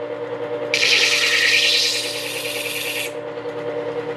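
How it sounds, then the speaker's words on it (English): Electric tool sharpener running alone with a steady broad grinding hiss for about two and a half seconds over a low motor hum, used for sharpening pottery tools. "you turn it on, and you're ready to start sharpening your tools"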